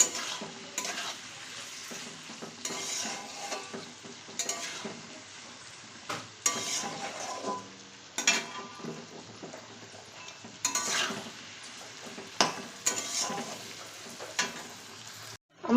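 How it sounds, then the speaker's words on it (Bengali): Vegetables for fried rice sizzling in a pan, a steady frying hiss broken by repeated scrapes and clinks of a spatula stirring against the metal, close and fairly quiet. "এইসব উপকরণগুলো দিয়ে সুন্দর করে ভেজে নিতে হবে"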